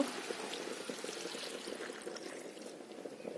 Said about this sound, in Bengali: পানি দিয়ে নেব